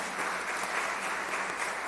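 A church congregation applauds during a Sunday worship service, a steady, even patter of many hands clapping that fills the room without a break for a couple of seconds.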